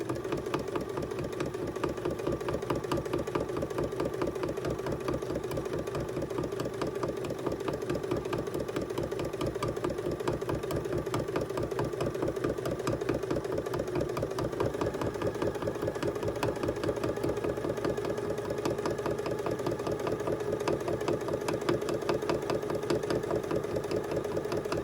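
Sewing machine with a quarter-inch foot stitching in the ditch on a quilted table topper, a steady fast rhythmic whirr and needle clatter, close and continuous with no talking.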